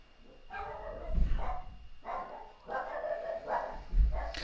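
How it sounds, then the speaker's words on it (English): Several dogs bark in loud bursts indoors, with clusters of barks around one, two and a half, and four seconds over a low background hum. "the dogs are barking like crazy right now"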